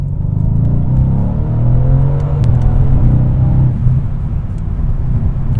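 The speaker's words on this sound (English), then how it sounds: "nothing like accelerating into the sun like a cowboy" A tuned 595 hp Mercedes C63S AMG with turbos accelerating hard, a loud close-up engine roar whose harmonics climb steadily in pitch before easing off, heard from inside the car with no talking.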